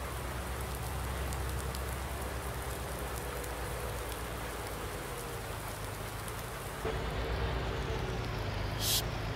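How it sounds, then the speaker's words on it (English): Heavy rain lashes down on a farm in Farming Simulator 19, a dense, steady hiss of downpour that holds constant throughout with a low background hum and no speech. "So it's been raining."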